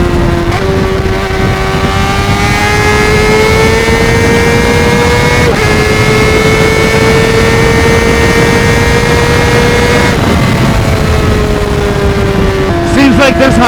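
Honda CBR600RR sport bike ridden on a highway, its engine holding a steady loud drone with slowly rising pitch, one brief dip and shift near the middle and another toward the end, plus constant wind rush throughout.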